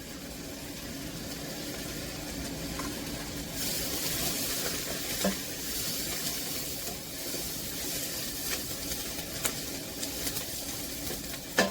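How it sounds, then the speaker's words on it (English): Vegetables and spices, basil, oregano, chili and cumin, sizzle steadily in a pot for cashew chili, a continuous broad hiss with a few faint clicks and no talking. "Then we're going to cook those vegetables for a few minutes with the spices that we put together"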